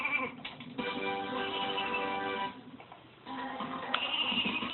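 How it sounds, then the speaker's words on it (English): Sheep bleats from the sheep gun in the Ratchet and Clank game, a pair of wavering, nasal cries with a short gap between them, clear and close against a faint game background. "You turn enemies into sheep."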